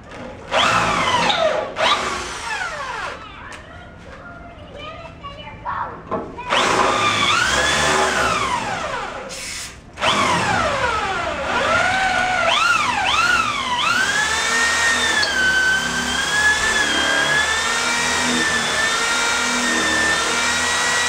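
A drill boring out frame rivets with a drill bit, a loud whining motor that rises and falls in pitch through repeated bursts, with brief pauses between runs and a long steady stretch at the end.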